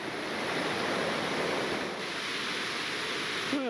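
Big Creek in the Great Smoky Mountains flows nearby as a steady, soft rushing wash of water with light wind over the microphone, and a brief faint tonal sound at the very end.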